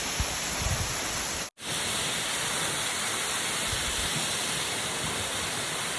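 A mountain waterfall roars as a loud, dense, unbroken rush of falling water, with a momentary dropout before the torrent resumes steadily.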